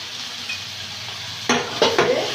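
Boiled egg and potato with cumin paste and salt sauté in spiced oil in a pan, a low sizzle broken by a few sharp scrapes and clanks of a spoon stirring against the metal.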